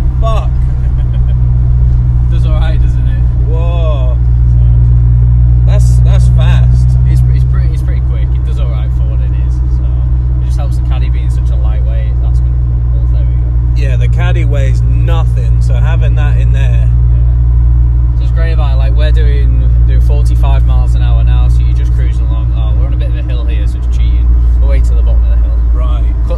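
A 1989 VW MK1 Caddy driving fast on a wet road makes a loud, steady engine and road rumble from inside the cabin, with people talking and exclaiming throughout.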